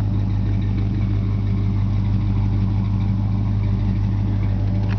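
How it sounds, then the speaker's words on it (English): A 1948 Ford Coupe with an aftermarket exhaust idles steadily and close by, a deep, even low rumble holding through the whole stretch with no talk. "Exhaust sounds awesome."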